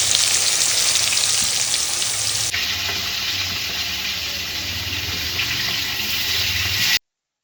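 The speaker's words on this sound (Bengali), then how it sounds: "রাঁধুনি পাঁচ ফোড়ন আর শুকনো লঙ্কা ফোড়ন দিয়ে কুচি দিলাম, কুচিটা ভেজে দিয়ে" Radhuni, panch phoron and dried red chilli crackle and sizzle in hot oil as a tempering, a steady, close, dense hiss that holds throughout and eases slightly partway through, with no voices.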